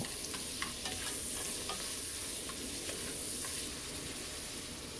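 Tomatoes and meat for ampalaya con karne are stirred and fried in a pan, with a soft continuous sizzle and intermittent light utensil clicks and scrapes, fairly quiet, no talking.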